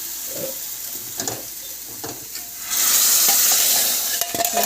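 Hot tempering is poured into a pot of tamarind rasam and sets off a loud, broad sizzle that swells midway and keeps hissing, following quieter stirring and clinking.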